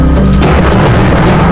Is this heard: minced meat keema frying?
no